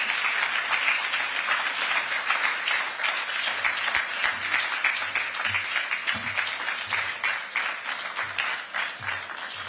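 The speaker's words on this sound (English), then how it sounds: "A round of applause" Sustained audience applause fills a conference hall after a keynote address at a national mining dialogue in Ghana, dense steady clapping from a large crowd holding level for nearly ten seconds before slightly thinning.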